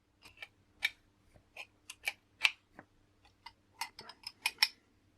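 Sharp metallic clicks and ticks ring out while a bike bearing press is tightened with a socket and two spanners during a bearing replacement on a full-suspension mountain bike. The clicks come close and irregular against a quiet background.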